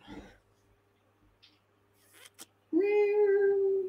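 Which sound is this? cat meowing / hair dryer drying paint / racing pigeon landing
cat meowing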